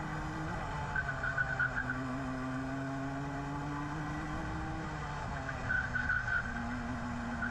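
A Club100 kart engine drones steadily on a race track during practice while a kart spins out, with short tire-squeal skids rising above the engine noise around two moments.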